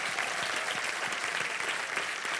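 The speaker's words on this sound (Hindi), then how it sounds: "जोरदार तालियां इनके लिए।" A studio audience on the Hindi Wheel of Fortune game show bursts into loud, dense, continuous applause that fills the whole moment without a break.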